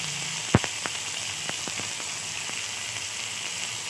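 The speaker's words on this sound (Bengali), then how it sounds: "তারপর তেলে দিয়ে দিলাম আগে থেকে বেটে রাখা আদা বাটা, জিরে বাটা, কাঁচা লঙ্কা, টমেটো দিয়ে একটু নাড়াচাড়া করে নিলাম।" Ginger paste, cumin paste, green chilli and tomato fry in hot oil while being stirred, giving a steady close sizzle with a sharp clack and a few scattered scrapes of the spoon, no voices.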